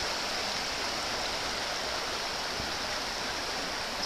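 Creek water rushes steadily at Rose Point Park during an outdoor scale-vehicle challenge, a dense, even, close hiss of flowing water with no voices.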